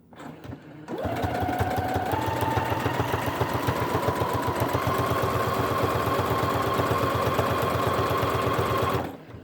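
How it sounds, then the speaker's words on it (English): A sewing machine zigzag stitching Velcro onto a kitchen towel, running in one fast continuous mechanical whir with rapid needle clatter for about eight seconds after starting, then stopping abruptly. "I'm going to zigzag stitch the Velcro on, trying to keep it fairly straight"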